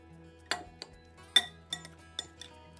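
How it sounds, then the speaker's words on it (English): Tuna ceviche with garlic given a quick mix, a handful of sharp separate clinks of a utensil against a bowl spaced across a quiet background. "We're gonna give it a quick mix."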